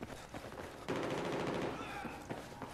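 Automatic weapon fire in the multiplayer shooter Battlefield 4 on PS4, a dense sustained burst that grows louder partway through, with a voice speaking alongside the shooting.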